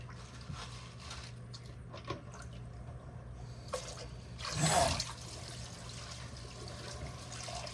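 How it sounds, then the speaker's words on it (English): Cold tap water runs over salad greens being washed, a soft continuous trickle with a brief louder splash in the middle. "Nice cold tap water."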